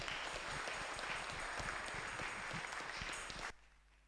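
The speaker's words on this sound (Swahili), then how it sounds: "mchungaji mgeni apigiwe makofi ya heshima" A church congregation at a Kikuyu service gives a visiting pastor a warm round of applause, dense sustained clapping from many hands that fills the room and then stops abruptly near the end.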